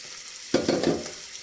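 Prawns frying in a pan for a Telugu mango-prawn curry give a sudden burst of sizzle, with several stirring swells and crackles over about a second, fairly quiet and close, with no talk.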